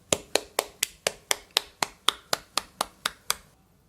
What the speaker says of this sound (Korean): 하나님께 감사 박수 드리겠습니다.